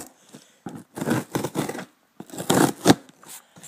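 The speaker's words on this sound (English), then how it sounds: "Let's open this up. With my wonderful purple scissors here." Purple scissors snip through the packaging of a cardboard box holding a new ASUS K55N-DB81 laptop; close, crisp bursts of cutting come in quick clusters with short pauses between them.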